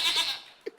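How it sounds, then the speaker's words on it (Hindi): A young goat kid gives a short, nasal, high bleat, close and clear, followed by a brief fainter squeak. "ये बकरी का बच्चा कहाँ से आ गया बीच में?"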